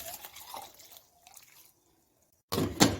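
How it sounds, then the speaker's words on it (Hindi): Water is poured into a cooking pot holding a simmering juice mixture with sugar, giving soft dribbling and trickling sounds before a quiet pause and a louder burst of splashing at the end. "मैं इसके अंदर 1 लीटर पानी और ऐड करूँगी।"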